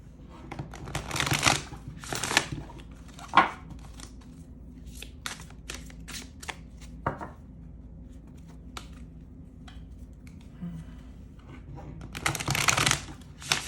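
Oracle cards from the Road to Nowhere deck being shuffled by hand, soft riffling and slapping bursts at close range, quiet and intermittent with short crisp clicks between longer shuffles.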